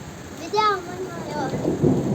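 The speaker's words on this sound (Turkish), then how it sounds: "Bir, taraftan şimşek çakıyor, bir taraftan yağmur yağıyor" Steady rain pours over a village during a thunderstorm, a continuous wash of noise with low rumbling beneath, while a voice rises briefly over it.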